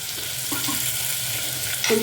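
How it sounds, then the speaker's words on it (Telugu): Ingredients for aloo kurma with turmeric frying in a pan, a continuous close sizzle with light stirring scrapes, louder toward the end. "ఇది కొంచెం వేగాక నేను టమాటా కూడా వేస్తాను."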